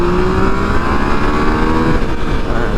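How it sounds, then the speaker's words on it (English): A Yamaha XSR 900 motorcycle accelerates hard from a stop toward 60 mph, its engine roaring loud and close with rising revs and a gear change, over steady wind rush. "All right, we'll see if we can go 0 to 60 here."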